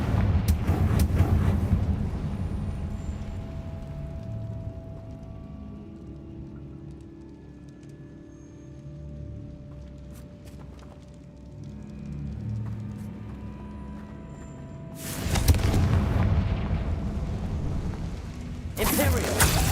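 Fiery Confringo spell blasts in the game Hogwarts Legacy, a loud burst at the start and another heavy eruption near the end, with a low rumbling game soundscape between them.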